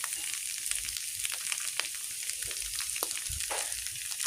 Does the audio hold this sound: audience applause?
no